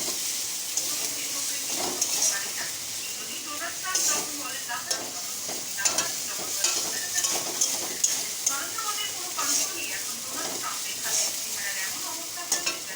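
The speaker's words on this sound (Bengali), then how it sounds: "আদা রসুনের কাঁচা গন্ধটা চলে যাওয়া পর্যন্ত ভাজবো।" Ginger and garlic fry in a pan with a steady, close sizzle, broken by frequent scrapes and clinks of stirring, and a trickle of water runs faintly in the background.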